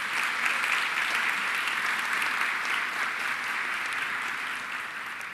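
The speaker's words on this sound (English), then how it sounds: "So if we could please give them both a round of applause here today." A seated crowd at a leadership symposium gives a steady round of applause, dense and even throughout, easing slightly near the end.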